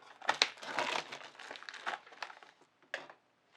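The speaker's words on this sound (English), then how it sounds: "There's a nice plastic shrink wrap around it, so we'll go ahead and open that up." Plastic shrink wrap around a Cricut EasyPress 2 box being poked and cut open with scissors, giving close, irregular bursts of crinkling and crackling that fade into brief quiet before a final short rustle.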